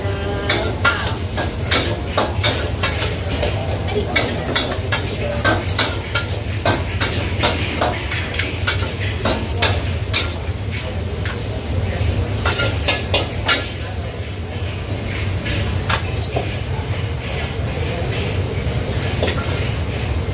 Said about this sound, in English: This is the Thai Chinese style stir fry noodles, the Suki Hang.